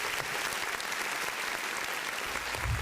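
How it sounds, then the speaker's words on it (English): An audience claps in a dense, steady round of applause throughout, loud and continuous with no voices on top. "Big round of applause, y'all."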